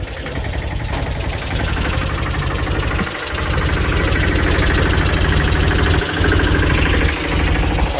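A tractor engine idles at a village construction site, a loud, steady, close mechanical rumble with a rapid knocking pulse and brief dips, with no talking.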